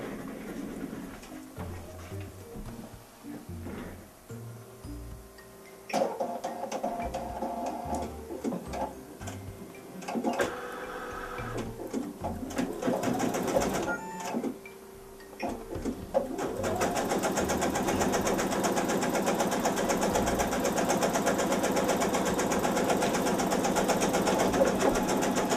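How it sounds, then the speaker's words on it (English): An embroidery machine stitches an appliqué quilt block held in a hoop over batting, a steady mechanical whir with rapid ticking stitches, quieter and choppy at first, then running louder and continuous through the second half. "I've already got the machine loaded with my hoop with the batting underneath and the block in the center ready to stitch."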